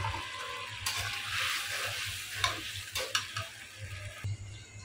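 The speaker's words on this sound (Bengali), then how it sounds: "এখন আমি দিয়ে দিচ্ছি ডিমগুলো।" Eggs sizzle as they go into a pan of cooked spice paste with turmeric and chilli, a soft steady frying hiss with a few stirring clatters, fairly quiet and close.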